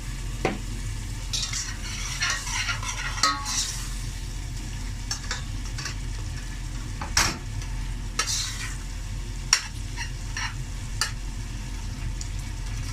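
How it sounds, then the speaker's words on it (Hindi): A chana dal masala with salt fries in a pan for lauki chana dal, giving a steady low sizzle under repeated scraping strokes of a spoon stirring it, with a few louder knocks against the pan. "इसको 3 से 4 मिनट में फ्राई करूँगी"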